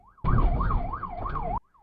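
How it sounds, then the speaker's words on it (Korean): An ambulance siren wails in a rapid rising-and-falling pattern, loud and close, cutting in abruptly and stopping just as suddenly, as the ambulance changes lanes in traffic. "사이렌을 울리며 달리던 구급차가 차량을 피해 옆 차선으로 들어섭니다"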